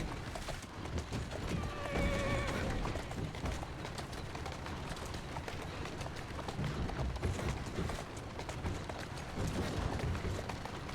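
A horse whinnies once early on while hooves clop steadily throughout, set against a dense, noisy outdoor soundscape in the video game Assassin's Creed Syndicate.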